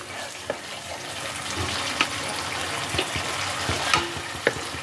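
Masala for dhaba-style matar paneer fries in oil in a pan, with a steady sizzle and a few scraping stirs and clinks of the spatula at intervals, close up and with no talk.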